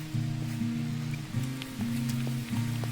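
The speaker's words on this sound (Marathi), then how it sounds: "जोराचा पाऊस आलाय आता चांगलाच" Heavy rain falls steadily during a trek on the Panhala to Pawankhind trail, a continuous close hiss with a low droning rumble underneath and no pauses.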